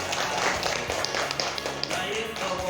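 Children clapping their hands in a classroom, dense rapid patter of many small hands, near and steady, with a voice talking over it.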